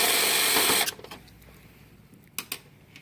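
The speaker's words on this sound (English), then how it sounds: "Next thing you're going to do is take these 2 screws out." A small power screwdriver whirs loudly for under a second while backing small screws out of a Sharp MX-series copier's document feeder, followed by faint clicks and a couple of sharp taps as parts are handled.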